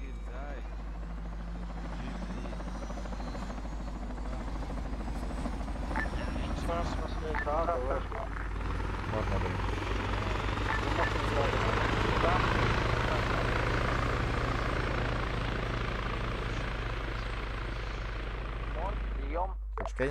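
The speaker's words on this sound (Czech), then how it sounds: "Это вертолет." A helicopter flies in the military video game Arma 3, giving a steady rotor drone and whine. The sound stays constant and moderately loud throughout, with voices talking over it.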